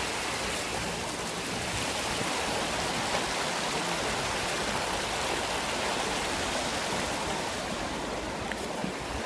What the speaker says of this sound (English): You can listen to the sound of the river, the water flowing, right?